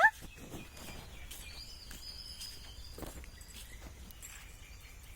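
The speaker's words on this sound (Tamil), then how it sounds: "இந்த குருவிகளோட சவுண்டு கேட்குறதுக்கு சூப்பராக இருக்குது." Scattered high chirps from sparrows ring out at intervals over a steady low outdoor rumble, with a few soft footsteps.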